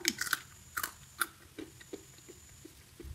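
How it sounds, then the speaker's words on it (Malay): Homemade kerupuk atom crackers crunching as they are bitten and chewed, a series of short crisp snaps clustered early then spaced out, close and fairly quiet with no talk. "Kita cuba makan apakah rangup atau tidak."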